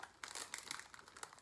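A flexible plastic Jeffree Star x Morphe makeup kit case with holographic zipper seams being opened, giving close, quiet crinkly rustling in several quick bursts with no voices.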